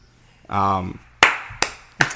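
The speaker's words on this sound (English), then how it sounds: "thanks for clapping" Several sharp hand claps at close range, three separate spaced strikes following a brief voiced sound.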